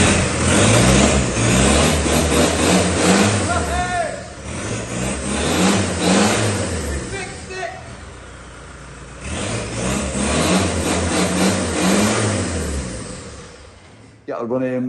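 A Land Rover 90 diesel engine runs close by, rising and falling in repeated revving swells over a steady rumbling idle, with speech audible over the engine.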